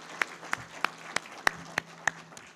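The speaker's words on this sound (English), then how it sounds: "please give her a round of applause" Sparse, slow clapping at an awards ceremony: about eight distinct, evenly spaced claps from just a hand or two, each sharp and isolated against a quiet room with faint hum.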